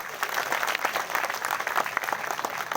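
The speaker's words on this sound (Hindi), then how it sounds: "तालियों से छात्र इनका स्वागत करें।" An audience at a national seminar at AKS University in Satna claps in a sustained round of applause, a dense and even patter of many hands that carries on steadily from start to finish.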